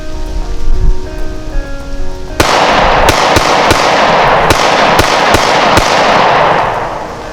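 A Smith & Wesson M&P Shield pistol firing steel-cased rounds outdoors, a rapid string of about nine sharp, loud cracks after a quieter lead-in, each shot ringing into the next.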